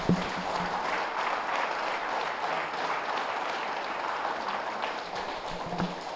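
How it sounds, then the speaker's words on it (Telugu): Loud, sustained applause from an audience at a Telugu spiritual gathering on the Lalita Sahasranama, dense clapping holding steady for several seconds with no voices over it. "గట్టిగా చప్పట్లు కొట్టండి, ఇంకా గట్టిగా"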